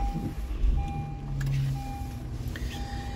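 Engine of a 2018 Honda CR-V EX started by push button, followed by a steady idle with a recurring tonal chime in a quiet cabin and no talk.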